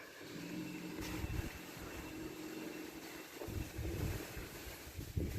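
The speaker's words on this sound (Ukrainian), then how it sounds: "Да, вітер такий добрий дує." Gusty wind buffets the microphone in rumbling bursts in a Ukrainian village yard, with a steady outdoor whoosh underneath.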